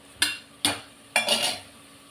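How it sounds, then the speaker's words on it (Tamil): A spoon stirs coriander and mint sautéing in a pot for one-pot coconut milk rice, three distinct scraping clatters spaced about half a second apart, each trailing off into a soft sizzle. "இன்னும் நல்லா இதெல்லாம் சேர்ந்து வதங்கட்டும்."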